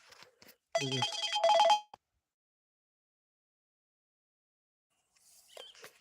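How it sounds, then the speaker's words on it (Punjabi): A mobile phone rings outdoors in a village farm field, one short burst of ringtone tones about a second long, fairly loud and close, followed by silence and a faint later sound. "ਇੱਕ ਮਿੰਟ ਫੋਨ ਆ ਗਿਆ"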